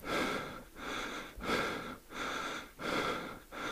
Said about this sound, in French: un bruit de respiration.